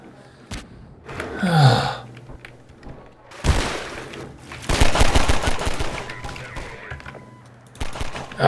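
Bursts of rapid gunfire crackle in loud volleys, with a breathy gasp early on and brief pauses between the shooting, in the video game Half-Life 2, in the canals.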